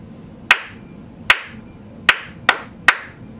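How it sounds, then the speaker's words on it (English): Five sharp hand claps in a rhythmic pattern, spaced unevenly with a quicker pair near the end, close and clear in a quiet room. "I'm going to try to clap a pattern"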